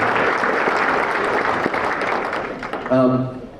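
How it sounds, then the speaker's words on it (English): A crowd at a charity walk event applauds with steady, full clapping for nearly three seconds, fading as a voice begins to speak near the end. "So can we just give AU a round of applause?"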